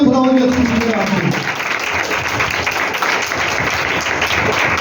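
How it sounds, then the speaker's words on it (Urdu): Loud, dense applause from a church congregation during an Urdu-language sermon, a steady wash of clapping lasting throughout with a voice audible at the start. "زوردار تالیاں"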